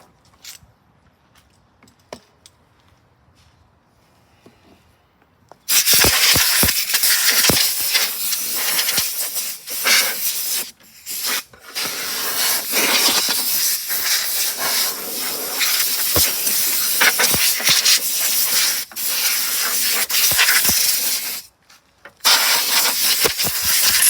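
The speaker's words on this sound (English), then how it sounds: "Let me get some compressed air and just give it a little blast." Bursts of compressed air blast over a 2001 Craftsman high tunnel mulcher lawn mower, loud, close and hissing in long stretches with brief pauses after a quiet start.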